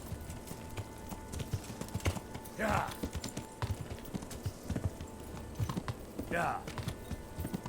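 Rhythmic horse hooves clip-clop steadily in a video game, with a couple of brief whinnies and a voice speaking softly now and then.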